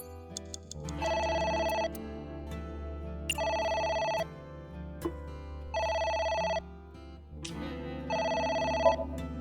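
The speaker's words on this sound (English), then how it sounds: "The phone is ringing." Telephone ringing in the video game AI: The Somnium Files, four evenly spaced electronic ring bursts separated by pauses over a quiet low background hum.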